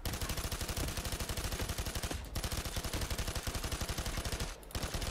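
A machine gun in the video game Payday 2 fires rapid continuous bursts of sharp, evenly spaced shots, loud and close, with two brief pauses in the stream.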